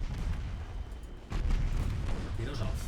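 Battleship guns thunder in the naval game Ultimate Admiral Dreadnoughts with heavy, booming blasts, the loudest landing about midway, over a continuous rumbling din. A voice speaks over the gunfire.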